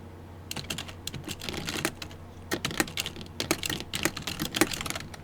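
Rapid, close clicking of keys on a computer keyboard, typed in uneven bursts with short pauses, with no talk.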